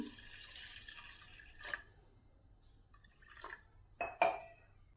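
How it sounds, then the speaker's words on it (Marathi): Water is poured over washed lentils in a cooking pot, heard as a few brief, fairly faint splashes and trickles against a quiet kitchen background. "तर आता आपण ह्याच्यामध्ये घालूया पाणी"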